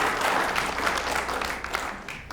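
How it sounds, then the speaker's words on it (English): A candidate forum audience claps for the county commission candidates, a brief burst of many hands that is loud at first and thins out toward the end. "let's give them a round of applause"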